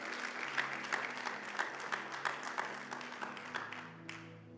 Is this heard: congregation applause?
yes